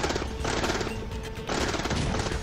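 An armored car explodes in the mobile strategy game Mobile 決戰金將軍, with rapid crackling blasts and bursts of gunfire-like noise that repeat in a dense, loud, close barrage.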